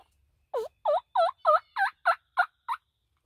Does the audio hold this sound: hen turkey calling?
yes